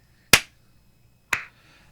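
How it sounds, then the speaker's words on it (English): Two sharp, crisp claps about a second apart, close and clear against near silence. "let's do the clap"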